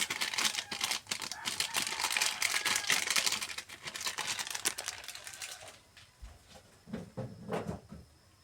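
Breading mix crackles and spatters in hot oil, a busy burst of sizzling pops that thins into scattered crackles.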